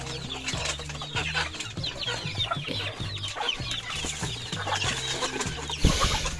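Hungry chickens cluck busily close by in a continuous, overlapping chorus, with a steady low hum running underneath.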